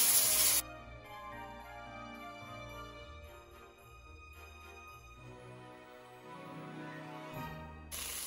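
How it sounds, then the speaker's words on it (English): A pressure cooker cooking rice gives off a steady, faint hiss with a soft tonal whine, continuous and fairly distant under a quiet kitchen background. "if you're wondering what that noise is, we're pressure cooking some rice"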